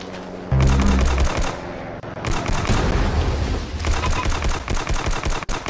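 Rapid bursts of video game laser gunfire crackle in uneven volleys, loud and close, mixed with other game effects and booms.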